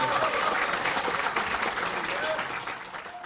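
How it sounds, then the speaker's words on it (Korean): Lawmakers at a Democratic Party caucus meeting burst into steady, dense applause that runs throughout with a few voices mixed in. "먼저 크게 박수 한번 치고 시작할게요"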